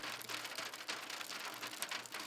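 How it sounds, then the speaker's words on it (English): Steady rain falls in a dense, even hiss of many small drops hitting a surface, continuous throughout with no pauses or other sounds standing out. "The rain continued."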